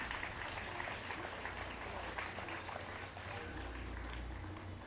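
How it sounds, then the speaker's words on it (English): Sustained applause from an audience at a STEAM fair fills the clip, a dense steady patter of clapping that stays loud throughout with no pauses. "So you should give yourselves also a round of applause."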